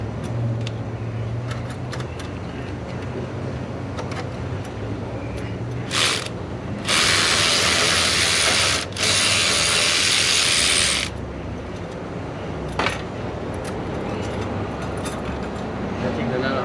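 Ratchet wrench taking a nut off the engine of a 2003 Ford F450 with a 6.0 Powerstroke, a steady close clicking with a loud burst of rapid ratcheting in the middle, under ongoing shop noise and some talk.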